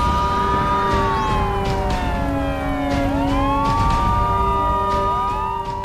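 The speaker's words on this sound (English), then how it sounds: "there's this huge blast of sirens as this one lawman car alerts" Several police sirens wail together, loud and close, their pitches sweeping and overlapping in a continuous blaring chorus.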